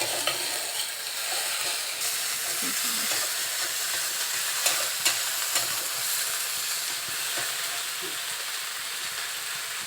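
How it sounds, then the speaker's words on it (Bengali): Cumin and chili paste stir-fried in a pan give a steady, close sizzle, with soft scraping stirs scattered through it and no voices. "জিরে লঙ্কা বাটা এক চা চামচ ভালো করে নেড়ে নিতে হবে কষিয়ে নিতে হবে ভালো করে"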